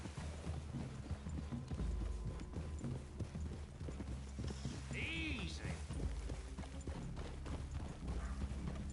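Horses walking on a trail in the Red Dead Redemption 2 video game, steady clip-clop hoofbeats close by under game ambience, with someone briefly speaking to calm a horse.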